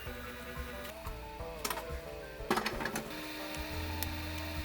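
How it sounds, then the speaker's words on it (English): A 3D printer works through a two-color Pokémon Go badge, its stepper motors whining in shifting tones with rapid ticking moves and a steady mechanical hum, close and continuous with no talk. "I'm actually printing this badge with 2 colors in order to make it stand out more"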